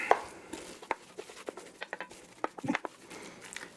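Dutch kale mash stamppot being stirred in a pot, giving soft irregular scraping and patting knocks, a few sharper taps of the spoon against the pot, close and fairly quiet with no voices.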